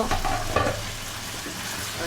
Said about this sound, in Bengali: এখন আমি তরকারিটা নেড়ে দেব